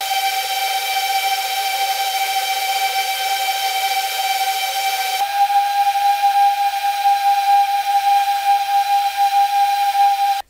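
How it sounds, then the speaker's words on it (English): Brushless drone motors spinning at steady throttle during a test, a continuous high whine with a strong steady tone that shifts slightly partway through, loud and close. "a higher pitch indicates that the motors are actually spinning faster for the same throttle value"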